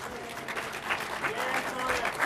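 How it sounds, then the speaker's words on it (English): A convention audience at a pin-trading panel at PAX South 2015 applauds, a brief, dense burst of many hands clapping with some crowd voices underneath. "everyone clap for her"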